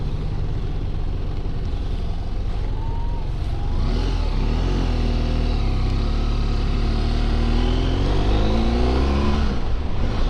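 A BMW F700GS motorcycle engine hums steadily, then revs up and down through several smooth gear shifts, pitch rising and dropping as it accelerates.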